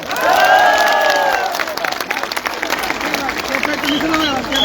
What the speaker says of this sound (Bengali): আপুর জন্য জোরে করতালি হবে